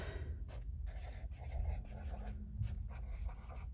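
A pen scratching across paper while lettering in a reading journal, close and continuous with short strokes and small pauses, no talking.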